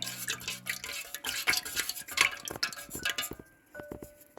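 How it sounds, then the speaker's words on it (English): Melted candle wax stirred in a small pot during small-batch candle making, heard as scraping and clinking strokes with soft liquid drips, fairly close and steady, alone with no talking. "I need to give it a stir."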